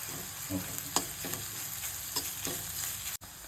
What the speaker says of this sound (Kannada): ಕಾಯಿ ತುರಿ ಸ್ವಲ್ಪ ಫ್ರೈ ಮಾಡಿಬಿಟ್ಟು ಆಮೇಲೆ ಕಾಳು ಹಾಕೋಣ